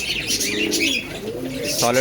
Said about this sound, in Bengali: পায়রার ডাক দেখুন খালি।